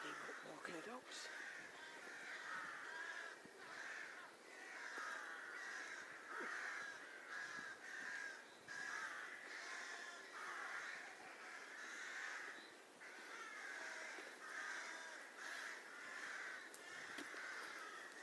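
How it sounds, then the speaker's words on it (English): Several crows caw repeatedly at a distance in a rural English village setting, harsh calls recurring throughout against faint outdoor ambience, with people talking nearby over them. "I've heard them crows having a good old croak."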